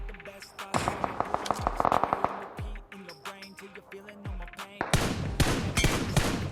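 Rapid gunfire from a shooting video game crackles in sharp repeated bursts, some shots nearby and heavy, others quicker and lighter, with dense volleys toward the end.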